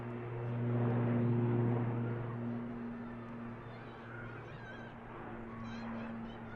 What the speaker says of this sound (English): KLM Neo for the return leg to Schiphol is now also on the taxi